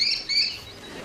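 Kestrel call played as a sound effect: a few sharp, high-pitched chirping cries close together in the first half-second, clear and fairly loud over a faint background.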